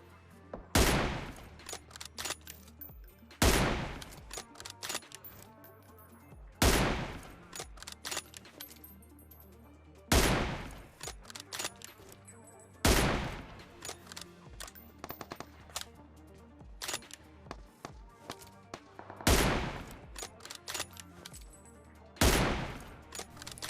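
Gunfire in a shooter video game as enemies are taken down, bursts of automatic fire repeating every few seconds over a busy game background, loud and close.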